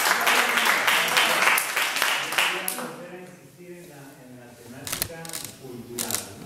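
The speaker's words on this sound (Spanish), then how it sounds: "le damos un gran aplauso" An audience at a theatre talk-back gives a burst of lively clapping that dies away after a few seconds. A voice then speaks, and a few scattered claps break in briefly later.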